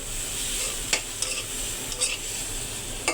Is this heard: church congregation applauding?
no